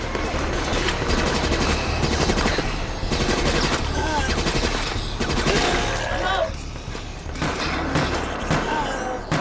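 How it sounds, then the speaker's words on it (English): Rapid gunfire bursts ring out against zombies in the third-person shooter Resident Evil: Operation Raccoon City, incendiary rounds crackling in dense, continuous volleys over a busy game soundtrack. "you fire incendiary rounds at zombies, lighting them all on fire"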